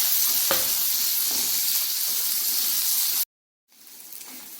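Onions, shallots and garlic sautéing in a pan for a chutney, a steady close hiss of frying with occasional stirring, cutting to a brief silence before fainter sizzling returns.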